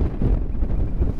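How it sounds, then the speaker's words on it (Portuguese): Cold, cutting wind buffets the microphone at the Espraiado canyon in Urubici, Santa Catarina, about 2,000 metres up, a loud, low, gusting rumble with uneven surges. "Um vento cortante,"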